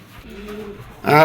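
A pigeon gives a short, low coo nearby, followed by a sudden louder burst of sound.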